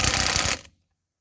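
A Dnipro-M DTW-202BC cordless impact wrench runs briefly, giving a rapid mechanical rattling hammer that stops abruptly after about half a second into silence.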